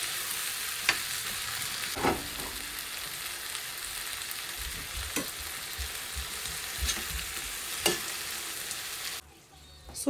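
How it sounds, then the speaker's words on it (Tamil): Steady sizzling of tomatoes sautéing in a pan for a fish curry, with a few sharp clinks of a spoon stirring, fairly close and continuous before ending abruptly. "தக்காளி போட்டு அதை நல்லா ஒரு சாட்டே பண்ணிவிட்டு"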